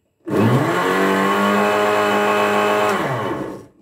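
An electric blender runs steadily for about three seconds, mixing cake, yogurt and cream for homemade ice cream, with a loud whirring hum that starts abruptly and then winds down at the end, no talking.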